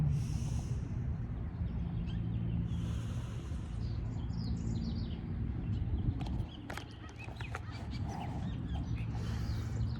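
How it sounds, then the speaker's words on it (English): Small birds chirp and tweet outdoors in short, scattered calls over a steady low background rumble, with a horse snorting nearby. "I keep hearing these birds around us"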